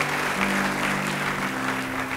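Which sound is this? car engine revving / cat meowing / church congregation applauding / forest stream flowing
church congregation applauding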